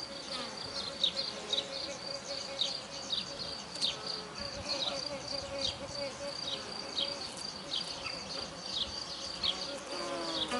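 Honeybees buzz steadily inside a queenless beehive, a dense, close, humming drone that carries through the whole stretch with no voices over it.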